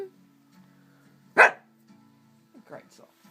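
A dog lets out a single short, loud half-growl, half-burp, standing alone between stretches of quiet background hum, with faint voices murmuring before and after.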